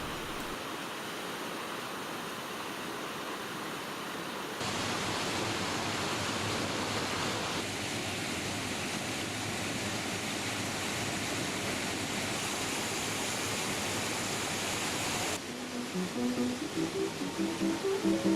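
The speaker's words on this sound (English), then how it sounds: "a 15-foot wide, 75-foot deep ravine through which the river tumbles down a series of falls" River tumbling down a series of falls through a narrow, deep ravine, a steady broadband roar of rushing water that stays loud and unbroken, swelling slightly partway through.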